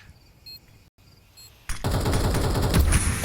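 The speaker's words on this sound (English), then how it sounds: "Unarmored AK for Shui." AK rifle fire in a Counter-Strike esports match, heard as a sudden loud burst of rapid automatic shots that continues steadily after a quiet stretch.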